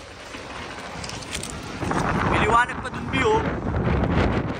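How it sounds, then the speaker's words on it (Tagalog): Strong cold wind buffeting outdoors, heavy gusty rumble and roar rising louder midway, with people talking briefly over it. "Medyo malakas yung hangin na naman."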